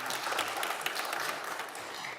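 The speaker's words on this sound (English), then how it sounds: "I would encourage the audience to applaud them as I announce them." An audience applauds a film cast at a premiere-style event, a dense, even wash of many hands clapping throughout.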